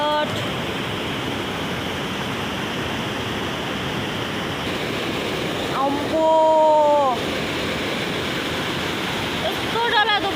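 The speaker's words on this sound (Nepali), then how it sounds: "यस्तो डरलाग्दो बढेछ खोला।" A swollen river rushes loudly with steady broadband roar throughout, a nearby rural stream risen high without rain; a person speaks briefly over the water around the middle and near the end.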